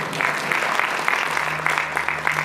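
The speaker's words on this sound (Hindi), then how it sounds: "ताली तो बजा दो," Brief clapping from an audience at a religious katha gathering in Ashok Vihar, Delhi: a scattering of hands keeping a loose rhythm over a low hum, fairly close.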